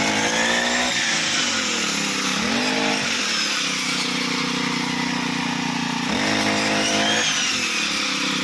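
A harvesting machine cuts a rice paddy with a loud, continuous engine drone, close by, its pitch dipping and rising several times as the load changes, with no voices.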